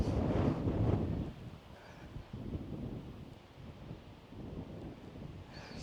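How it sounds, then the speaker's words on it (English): Strong gusting wind buffets the microphone at roughly 10,000 feet of elevation on a Colorado mountain road overlook, a loud low roar that surges at the start and keeps rumbling steadily throughout, with no voice heard. "It's super windy, so I hope you guys can hear me"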